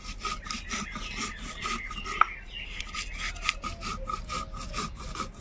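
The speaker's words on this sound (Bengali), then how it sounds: "এগুলো বেটে নেব।" Cumin, green chili, mustard seeds and ginger being ground into paste by hand in a village kitchen, a steady run of rough, rhythmic scraping strokes close by, with a couple of sharper knocks and no talking.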